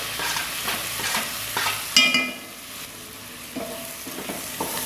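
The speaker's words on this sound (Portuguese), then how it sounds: "Vou mexer um pouco." Bacon, sausage, garlic, onion and tomato frying together in a pan for virado de feijão, stirred so the sizzle swells and scrapes, with one sharp utensil clank near the middle over a constant close hiss.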